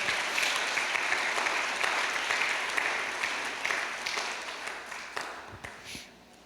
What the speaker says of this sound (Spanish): Le damos un buen aplauso al Señor.